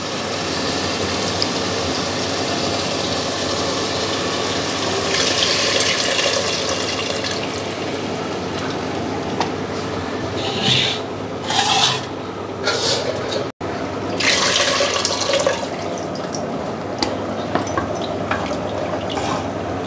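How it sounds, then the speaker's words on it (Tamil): Tamarind water pours and splashes steadily into a cooking pot for a long stretch, with occasional scraping and a few brief louder splashes. "இப்போ புளி காய்ச்சி ஊற்ற போகிறோம்."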